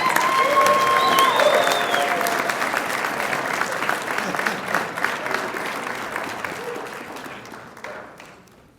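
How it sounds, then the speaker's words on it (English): A crowd at a 2024 fire department lateral academy graduation ceremony cheers and applauds loudly for a graduate, with sustained clapping and whoops that gradually fade toward the end. "please cheer loud"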